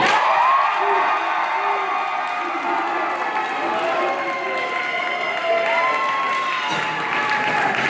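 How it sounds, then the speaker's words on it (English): A loud student crowd applauds and cheers at a school live-stream event, with whoops and shouts over sustained clapping and a voice calling out above the din. "big round of applause for you"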